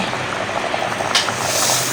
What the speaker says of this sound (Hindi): यहाँ पानी में बॉयल आने लग गया है।